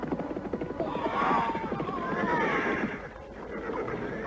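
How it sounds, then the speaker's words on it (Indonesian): A horse whinnies during a mounted chase in a radio drama, a drawn-out neigh rising and falling over a rumbling, throbbing background, fairly close and prominent. "salah seekor dari kuda mengejar Prabu Sana dan Sanjaya melesat hingga beberapa meter dari buruannya"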